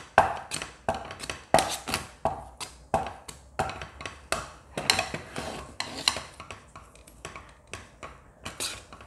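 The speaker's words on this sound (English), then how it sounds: "In the meantime, we are giving it a stir just to make sure everything is well combined" A utensil stirs thick ragi mudde in a pot, producing rhythmic scraping and knocking strokes about once per second, clear and close with no voices.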